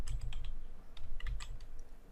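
Someone types a chart title on a computer keyboard with quick, soft, uneven clicks in short bursts over about two seconds, close and quiet, with no talking.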